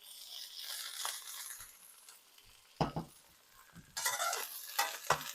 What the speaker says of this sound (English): I like using my spatula here so then I can scoop and flip